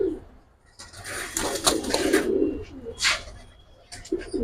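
Giribaz pigeons with silver colouring at a pigeon sale, giving low, throaty coos that swell and fade over a few seconds, fairly close, alongside some background noise.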